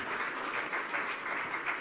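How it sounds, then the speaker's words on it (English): Dense, steady applause from a conference audience as panel speakers leave the stage, a sustained crowd of clapping hands that stays even and full for the whole stretch. "let's give them another round of applause"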